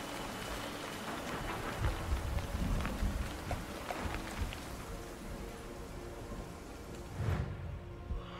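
Rainfall in the video game Sniper Ghost Warrior 3 makes a steady, fairly quiet hiss with a few soft low rumbles, heard alone without voices.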